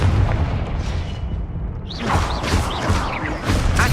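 Confringo explosive spell blasts in the video game Hogwarts Legacy, booming bursts and crashes over continuous busy game noise, fairly loud throughout.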